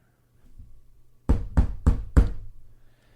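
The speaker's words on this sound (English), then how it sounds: "He headed down to the Red Lady and knocked on the door." Four firm, evenly spaced knocks land on a door, loud and close, after a brief low rustle.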